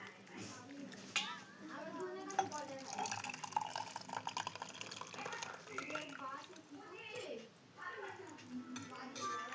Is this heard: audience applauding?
no